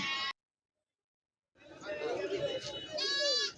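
Goats at a busy goat market in Kerala give short, nasal bleats, one at the very start and another near the end, with people talking over the livestock in between.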